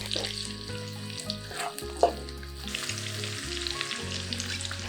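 Onions frying in a pan for a vegetable dish, a steady close sizzle with brief stirring scrapes and one sharp clink midway, no voices.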